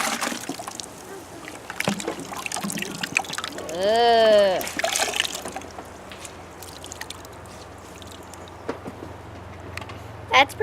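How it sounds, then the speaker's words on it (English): Socks being swished and rinsed in a pot of fresh water, soft trickles and splashes across the clip with a brief squeaky rubbing sound midway, close and fairly quiet. "We got a whole nother pot of fresh water in. We're just going to rinse it a little bit."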